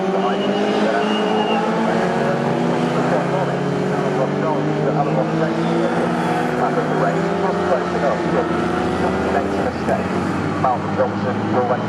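Classic K Series racing cars scream at speed around Snetterton circuit, a continuous loud engine roar with shifting pitch and occasional tyre squeal, with race commentary talking over it throughout.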